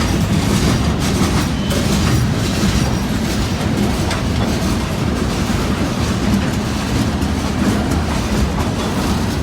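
A train rolls past on a former B&O Chessie CSX rail line, a loud, steady rumble of wagons with continuous clickety-clack from the wheels, heard close by and without talk throughout.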